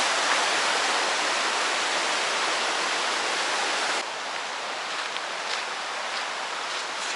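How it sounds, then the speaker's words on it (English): Fast-flowing river rushing near a lake, a dense, steady roar that drops slightly in level partway through, with faint splashes on top. "Man, that river's moving."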